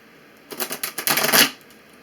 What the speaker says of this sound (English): let's go ahead and shuffle the tarot cards up for you.